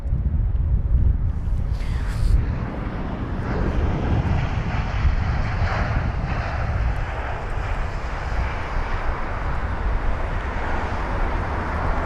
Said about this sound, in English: These are the first 2 aircrafts to be taxiing on over to runway 27 right ahead of the runway alternations